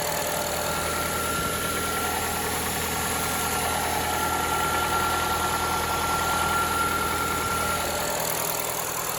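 A Honda CR-V engine idles fast and steady while warming up, with a check engine light on, a continuous mid-pitched hum with a faint whine on top, running alone without pause.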